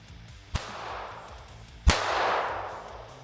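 Two sharp firearm shots at a rural Arkansas shooting spot, a lighter crack followed about a second later by a louder blast with a lingering rumbling tail, close by and with no talking.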